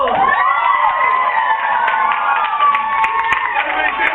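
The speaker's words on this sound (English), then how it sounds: "So we're gonna have them cheer after they break the board" Children erupt in loud, sustained cheering and shouting after a karate board break, a dense crowd of young voices holding strong for several seconds.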